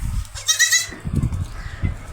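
A goat near delivery bleats once, a wavering nasal cry up close, followed by rustling and low shuffling noises.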